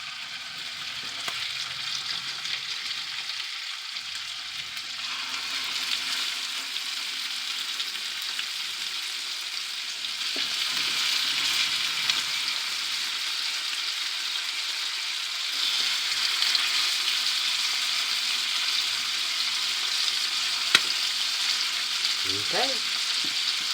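Salt-and-pepper seasoned pork tenderloin sears in a hot pan with a steady, soft sizzle throughout, joined by a few light utensil clinks and a brief spoken word.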